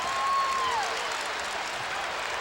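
A crowd at a Tennessee vs. Georgia college basketball game in 2006–07 applauds steadily in a big arena. The wash of clapping and crowd noise carries on while a short whistle sounds early.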